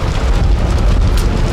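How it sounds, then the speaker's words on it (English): A house blows up in a stunt explosion on the set of Walker, Texas Ranger, a loud, dense, continuous roaring blast with no talk over it. "with that blowing up right behind me here, and then Kenny running over here, getting that explosion in that house"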